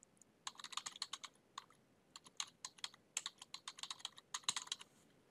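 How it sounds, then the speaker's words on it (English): Quick bursts of keystrokes on a computer keyboard as names and an email address are entered into a form, crisp close clicks in uneven clusters with short pauses between, no talking. "You'll type in the first and last name and then the email address."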